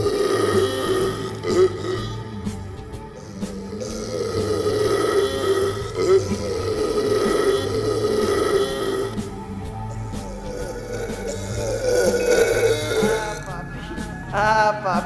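Cartoonish burping in an animated short, a long run of rough, gurgling belches layered with music and other sound effects, loud and close throughout.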